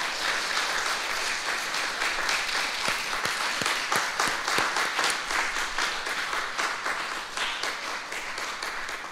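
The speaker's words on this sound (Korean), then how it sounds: "같이 한번 박수했으면 좋겠습니다." A church congregation applauds its pastor after a sermon, steady dense clapping filling the room throughout with no one speaking over it.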